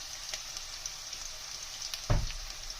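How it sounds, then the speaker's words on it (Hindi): Onions frying lightly in oil for a street-style veg chowmein, a faint steady sizzle with a brief louder clatter near the end, no talking. "प्याज को हम अच्छे से ऑयल में लाइट फ्राई करेंगे।"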